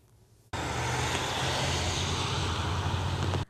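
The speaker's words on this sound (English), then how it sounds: "Is a common sound as cars drive township roads." A car passes on a township road in Marquette Township, a loud, steady rush of tire and engine noise that begins abruptly and holds for about three seconds before cutting off.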